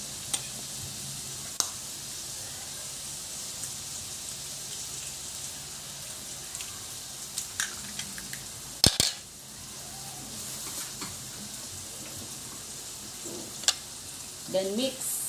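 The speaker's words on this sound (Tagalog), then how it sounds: "Then saute. Now we will add the egg." An egg frying with onion in a pan for breakfast makes a continuous close sizzle with scattered clinks and scrapes of a utensil against the pan, plus a sharper clatter near the middle.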